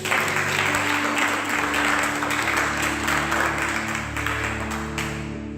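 A church congregation applauding to acclaim the Lord, steady sustained clapping from a large crowd throughout, with a sustained musical drone underneath.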